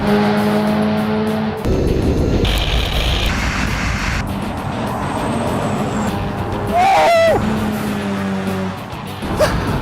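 Several cars in a standing quarter-mile drag race, an Audi SQ7 SUV from 2017, a Honda Civic Type R and a tuned Mazda MX-5, with loud engine roar and wind noise from inside a car and a brief tire squeal.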